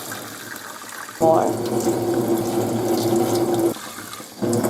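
Water pours from a tap into a pot of soaked rice, a steady splashing stream lasting a few seconds, loud and close, with a brief spoken word before it.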